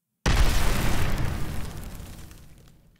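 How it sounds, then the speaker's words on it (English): A single explosion synthesized in the Vital synthesizer bursts suddenly after a brief silence, a deep booming blast with a long rumbling tail that fades out over a few seconds. "you can get very interesting textures for these explosions"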